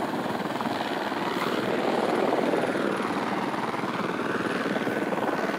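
Airbus A320neo airliner climbing away after takeoff on its first flight, a steady loud broadband jet roar holding throughout with no gaps.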